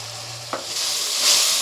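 Onions sizzle loudly in a pan as spice paste for mutton curry is added and stirred in, with a brief scrape and the frying hiss rising.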